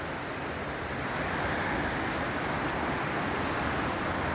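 Steady, broad rushing of a flowing creek in winter, constant and fairly loud throughout, with no voices.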